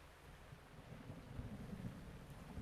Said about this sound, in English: Oh, I'm about to get struck by lightning.